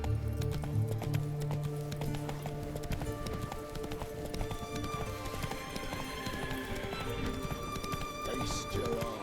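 Roach, the horse in The Witcher 3, gallops with clear, quick clip-clop hoofbeats and snorts under in-game music, close and steady throughout.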